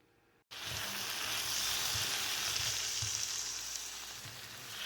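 Crispy potatoes fry in butter in a pan, a steady close sizzle that starts abruptly and holds throughout, with occasional soft stirring knocks.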